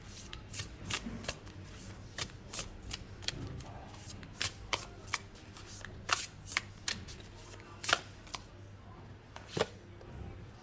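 Quantum Oracle deck cards being shuffled, a run of crisp riffling snaps and taps in an irregular rhythm, close and fairly quiet over a low background hum.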